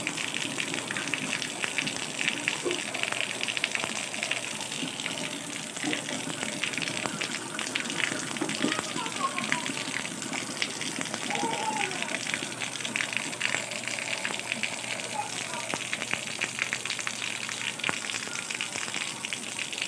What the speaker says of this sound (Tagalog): Kala ko araw na, yung pala ulan-ulan pa.